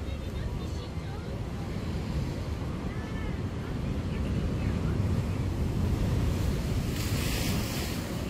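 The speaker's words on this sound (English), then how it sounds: "Whoa, that was a huge wave. It did hit the pier." Heavy surf and a large ocean wave breaking against a fishing pier at Margate on the KZN South Coast, a loud steady wash of water with wind buffeting the microphone, swelling near the end.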